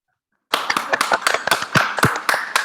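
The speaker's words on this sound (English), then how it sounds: "Please unmute yourselves and give a big round of applause." A handful of online participants clap after a brief silence, with individual claps distinct and uneven, sounding close and somewhat patchy rather than like a full crowd.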